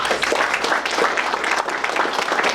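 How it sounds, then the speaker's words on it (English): A round of applause rises from the audience at a veterans recognition event after an honor guard team's performance, steady dense clapping from a crowd throughout the short stretch. "Let's give them both a round of applause."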